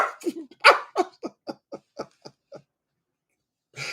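A chihuahua whines for food in a string of short, high, rising yelps and whimpers, about ten in quick succession, close and fairly clear, followed by a pause and then a brief breathy sound.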